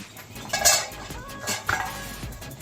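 A metal lid is lifted off a pot of half-cooked moong dal, giving a couple of close metallic clinks and clatters against the rim amid soft kitchen bubbling, with no talking.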